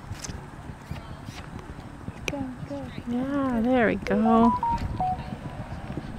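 Several horses canter around a riding arena, their rhythmic hoofbeats thudding steadily throughout while a rider's voice speaks over them.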